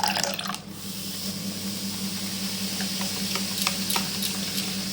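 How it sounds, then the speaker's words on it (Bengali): Water poured from a small vessel onto Eno fruit salt sprinkled over rice idli batter in a home kitchen, a steady close hiss and trickle lasting several seconds with a few faint drips near the end. "ইনোর উপরে একটু জল দিয়ে দেবো"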